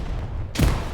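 A grenade blast in a multiplayer tactical shooter, one sudden heavy boom with a deep low thump, arriving after a half-second of quiet background rumble and trailing off quickly.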